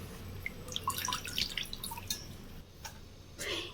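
Water squeezed from grated bottle gourd falls in a series of light, irregular drips and trickles, close and quiet, with no voices.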